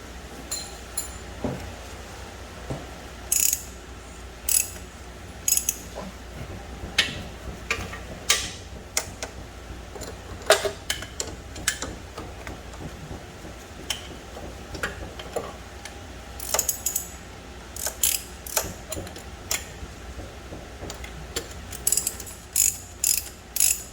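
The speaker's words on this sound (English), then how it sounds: "Let me go down there and break the bolt." Ratchet wrench clicking under a 2006 Toyota Corolla S while breaking loose a front engine mount bolt, in irregular bursts of sharp ratcheting ticks over a quiet garage background, close and alone.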